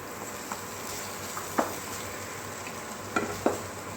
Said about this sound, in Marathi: आता आपण हा खवा टाकून घ्यायचा आहे।